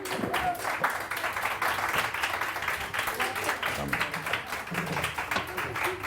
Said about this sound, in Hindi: तालियां तालियां बजा लें, बजा लें